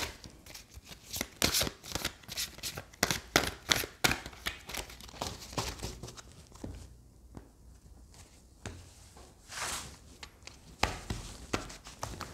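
Tarot cards being shuffled and handled up close, a busy run of crisp riffling, slapping and sliding sounds with short pauses, loud and continuous with no voice over it.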